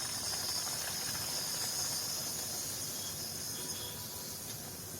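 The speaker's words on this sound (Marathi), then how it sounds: "आता ते आपण फ्राय करायला घेऊया. मीडियम फ्लेमवर फ्राय करायचे आहे." Puri frying in hot oil on a medium flame makes a steady, even sizzling hiss throughout, with no pauses or talk.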